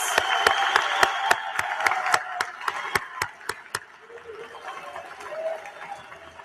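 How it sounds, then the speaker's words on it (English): Engineering and IT graduates are applauded at a university commencement ceremony with sharp, evenly spaced claps heard up close for a few seconds. The clapping then stops and only a faint murmur is left. "Let's applaud the Engineering and Information Technology graduates."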